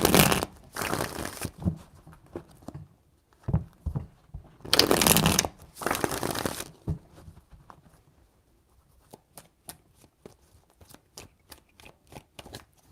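Tarot cards are shuffled close by in a few riffling bursts, followed by lighter scattered taps and slides of the cards, with quiet gaps between.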